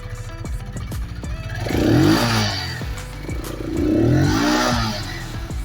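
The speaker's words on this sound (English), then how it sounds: "The next best thing about this bike is the sound of the exhaust." A Keeway K Light 125cc motorcycle engine idling with a steady putter, then revved twice in rising and falling swells, the exhaust note loud and close.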